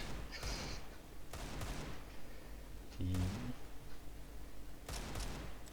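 Gunfire in the Counter-Strike 2 video game during a 2-versus-2 match: several sharp shot bursts, the loudest near the middle, over steady game background noise.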